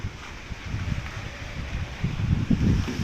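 Strong wind gusts roar through a stand of rubber trees during a storm, a dense low rumbling buffet that swells louder toward the end, with no voices.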